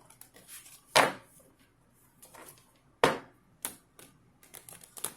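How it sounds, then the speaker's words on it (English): Large, stiff tarot cards are shuffled by hand in irregular bursts, two loud slapping riffles among softer sliding and tapping sounds. "I've been standing here shuffling for a few minutes."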